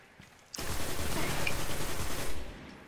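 Rapid video game gunfire rips out as a dense, continuous burst of shots lasting about two seconds, loud and close, then cuts off.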